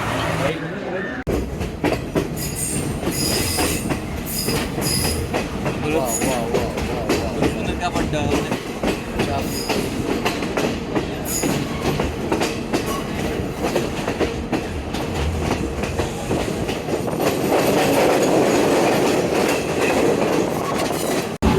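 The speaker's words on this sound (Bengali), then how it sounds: "এটা হচ্ছে শ্রীলঙ্কার থার্ড প্লাস এক্সপ্রেস ট্রেনের থার্ড ক্লাসে কোনো হকার বা কোনো কিছুই নাই" Sri Lankan express train running, heard from inside a third class carriage: a steady rumble with rhythmic clickety-clack of wheels, rattling and some wind noise, loud and continuous.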